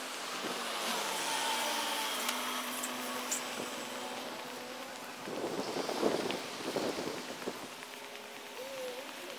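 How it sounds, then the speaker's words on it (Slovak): Wind blowing outdoors in front of a university faculty building, a steady broadband rush throughout with stronger gusts toward the end. "Fúka, čo?"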